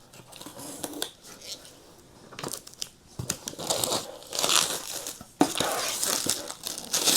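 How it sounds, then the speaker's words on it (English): Plastic wrap is ripped and crinkled off the box of a 10.1-inch Dynamic Halo tablet, with close, uneven bursts of crackling and tearing that swell and fade over several seconds. "Let's just get rid of this plastic cover first of all."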